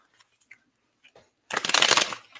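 A deck of tarot cards shuffled once at close range, a dense papery riffle lasting about a second after a few faint ticks and rustles in near silence.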